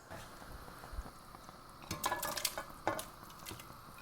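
Lamb stew is stirred in a pot, a short burst of soft scraping and clinks partway through against a faint quiet background.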